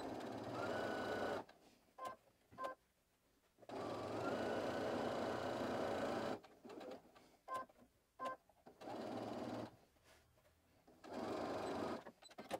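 A sewing machine stitches all the way around the edge of a fabric organizer in several bursts of rapid, steady mechanical whirring, each separated by short pauses of near quiet, close and fairly soft.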